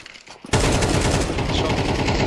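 Sustained burst of gunfire in a Counter-Strike match, a loud dense barrage of rapid shots erupting after a brief quiet moment and continuing without pause to the end.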